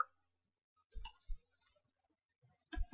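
Mouse clicks on a window's close button, a few short soft clicks spaced apart in a quiet room.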